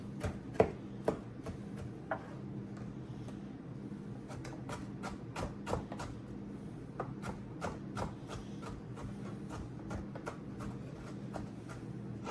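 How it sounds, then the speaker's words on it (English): Knife dicing food on a cutting board for a taco salad, a run of crisp, irregular chops spread across the clip, some sharp and close, others lighter, over a low steady room hum. "And she's just dicing it up."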